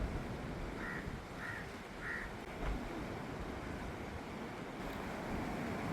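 Steady sea surf breaks against a stone seawall of large rocks, a continuous broad wash of water. Faint bird calls are heard briefly near the start.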